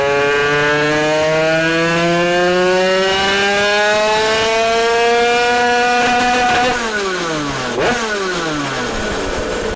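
A 100cc wheelie-contest motorcycle engine, its exhaust fitted with a 5 mm spacer between flange and pipe body, revs loudly and steadily rising for several seconds, then drops off and surges briefly again, close and continuous with no talk.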